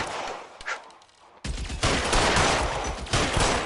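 Gunfire in the video game L.A. Noire, a few sharp shots, then from about halfway a dense sustained burst of rapid firing, loud and continuous to the end.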